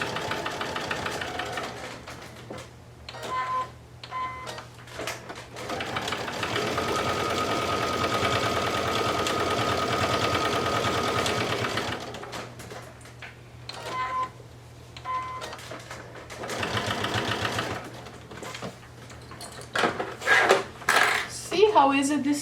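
An electric sewing machine stitches a fabric gift card holder in two long runs of steady mechanical whirring, separated by quiet pauses. A voice speaks near the end.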